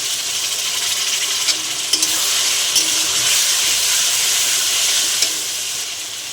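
Potatoes sizzle and fry in hot oil with ginger-garlic paste, ground coriander and cumin, a steady close hiss with a few stirring clatters and no talking.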